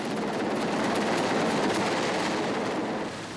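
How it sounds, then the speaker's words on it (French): A Super Puma rescue helicopter arrives amid wildfire smoke and wind, its rotor and turbine roar filling the air as a steady, loud, close wash of noise with no voices. "Appelé par la journaliste, un nouvel hélicoptère arrive"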